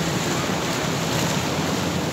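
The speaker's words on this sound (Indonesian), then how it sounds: "Ombaknya besar" Big ocean waves at Klayar Beach in Pacitan, a loud continuous roar of surf mixed with wind buffeting the microphone, no talking.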